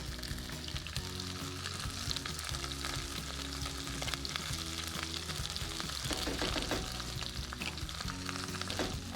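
A whole head of garlic sizzles and fries steadily in a pan, a continuous close crackle with occasional stirring clatter and no voices.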